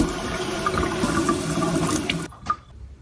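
Water poured from a cup into a pot of rice, a steady rushing pour lasting a couple of seconds before stopping abruptly, with a brief splash after.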